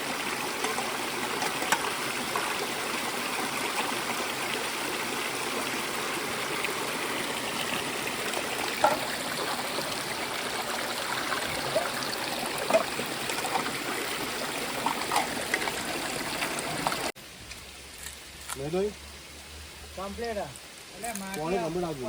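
Clear stream water runs steadily through a forest camping spot near Abu Road, a continuous close trickling rush with a few small splashes. It cuts off abruptly toward the end, where a person starts talking.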